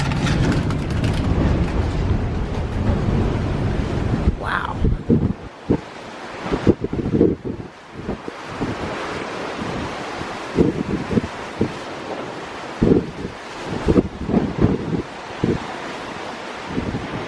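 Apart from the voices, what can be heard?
strong wind outside on a cruise ship deck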